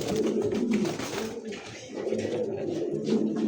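Pigeons coo in low, throaty, rolling calls, close and fairly loud, repeating in bursts with a short pause in between.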